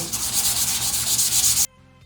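Sandpaper rubs steadily over painted furniture in quick, continuous back-and-forth strokes for about a second and a half, then the scratching stops abruptly and leaves near silence.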